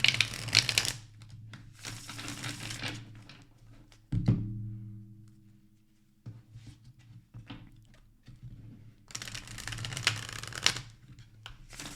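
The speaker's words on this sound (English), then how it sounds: "I'm going to do a quick shuffle" Bursts of tarot card shuffling riffle at the start and end, with softer shuffling and a couple of dull thumps in between; close and fairly quiet, no talking.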